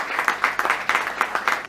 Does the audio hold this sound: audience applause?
yes